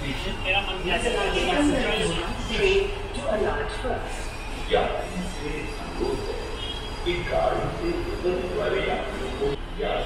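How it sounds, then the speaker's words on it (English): Ride aboard the Gurgaon Rapid Metro, a modern elevated train, with a continuous low rumble of the carriage and wheels, faint squeals and clatter rising at moments while people talk over it. "This is a state-of-the-art metro."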